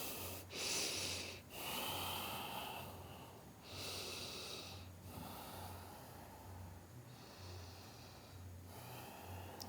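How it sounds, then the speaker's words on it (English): Slow, heavy nasal breaths during a stress-relief yoga flow, several long inhale-exhale cycles close up and loud, each a drawn-out airy rush with short pauses between, no talk. "Breathing here, lifting the hips up."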